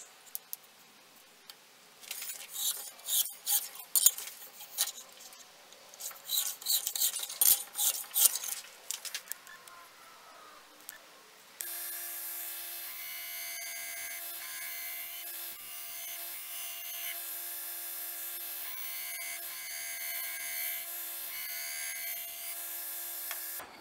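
A hand file rasps in uneven back-and-forth strokes while roughing in bevels on a kitchen knife forged from rusty leaf spring steel, then gives way to a steady mechanical hum for the second half.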